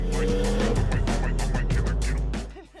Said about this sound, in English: Accelerate, clutch, turn the wheel, handbrake.